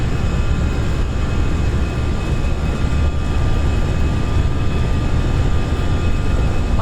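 Airliner engines spooling at takeoff thrust in a flight simulator on a Sydney to Wellington flight, a steady loud roar with a thin whine holding constant.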